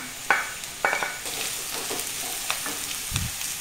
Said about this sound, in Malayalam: ക്യാരറ്റും ബീട്രൂട്ടും ഇതിലോട്ടിട്ട് നല്ലപോലെ ഇളക്കി